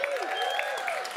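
A short burst of clapping from a theater audience honoring dramaturgs at a Sundance Film Festival event, dense and lively, with whistles and voices riding over the applause.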